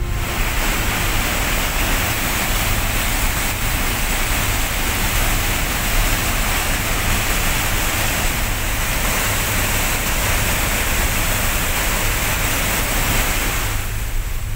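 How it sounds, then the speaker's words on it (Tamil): Flash flood water after heavy rain surges over a submerged causeway near Thalavadi in Erode district, a loud, steady, close roar of rushing water that continues unbroken throughout with no voices. "ஈரோடு மாவட்டம் தாளவாடி அருகே கனமழையால் தரைப்பாலத்தை மூழ்கடித்தவாறு பாயும் காட்டாற்று வெள்ளம்."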